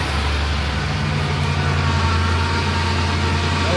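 A 2007 Ford F350 four-wheel-drive pickup with exhaust leaks idles steadily nearby, a continuous low rumbling drone with no talk.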